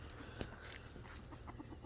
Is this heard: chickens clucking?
yes